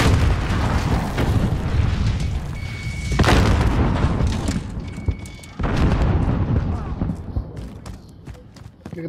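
Heavy bomb explosions boom in Call of Duty: Modern Warfare hardcore multiplayer, several loud blasts hitting close with crackling debris and gunfire, while players talk over the battle.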